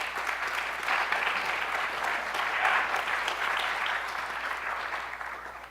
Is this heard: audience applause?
yes